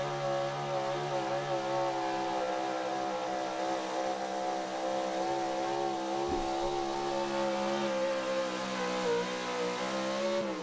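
A pulling truck's engine roars steadily at high revs as it runs down the track at a truck and tractor pull, loud and sustained with a harsh, rasping tone throughout.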